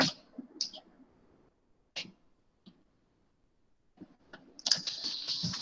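Scattered key clicks from a computer keyboard during a class lesson on data structures, arriving in short sparse bursts with gaps, then a denser run of typing near the end, fairly close and without talk.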